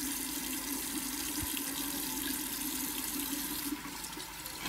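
Tap water runs steadily into a sink while a makeup brush is rinsed clean of soap and product, a continuous close splashing stream with no talk over it.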